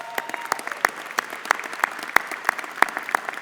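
Audience applause at a university's 2019 midyear undergraduate commencement, a moderate, steady patter of clapping from the crowd with sharp individual claps standing out.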